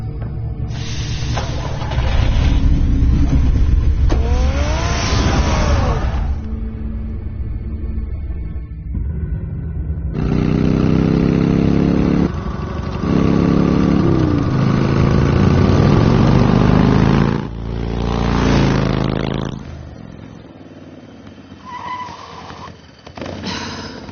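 Batmobile engine in a Batman video game, a throaty rumbling growl with surges of revving and hissing bursts, loud and continuous over about twenty seconds.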